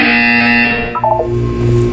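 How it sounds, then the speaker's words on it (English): A short electronic buzzer tone sounds once over a steady synthetic hum, a game signal in Portal 2, loud and close. "When you hear the buzzer, look down at the floor."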